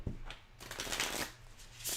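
Plastic playing cards are riffled and bridged at close range, a quick burst of rapid fluttering clicks followed by a soft cascading riffle.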